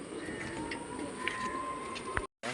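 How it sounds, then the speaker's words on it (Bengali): Pigeons cooing near a newly built breeding cage, soft repeated coos with a steady bird-room hiss behind them and a brief cut to silence near the end. "পায়রাগুলো নেমে গেছে, আর পায়রাগুলো তোমরা দেখো"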